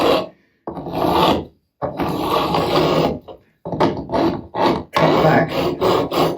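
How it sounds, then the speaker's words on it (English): A beveling block files down the fret edges on a Fender Telecaster neck during a refret, giving loud, close, raspy strokes in repeated runs separated by short pauses. "cut back the edges of the frets"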